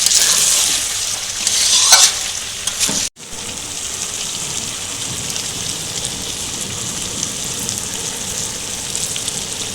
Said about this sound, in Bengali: নুন টমেটো দিয়েও আরও কিছুক্ষণের জন্য কষিয়ে নেব মাংসটা ভালো করে কষাতে হবে